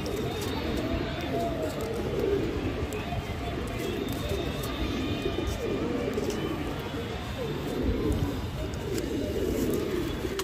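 Pigeons coo in a low, continuous murmur, many birds blending together nearby, steady throughout with no pauses.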